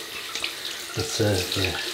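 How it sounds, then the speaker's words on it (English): Tap water runs steadily into a sink as a shaving brush is rinsed under it, close and fairly loud, with someone briefly speaking over the flow. "Rinse the brush out of this."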